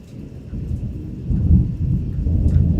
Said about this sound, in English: this thunder is ridiculous